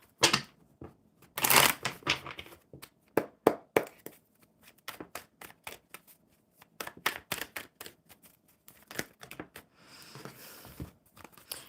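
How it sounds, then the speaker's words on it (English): A deck of tarot or oracle cards being shuffled by hand, giving a run of close, crisp riffling and slapping bursts in irregular clusters, with brief pauses between shuffles and no talking. "Shuffle them up super good for you."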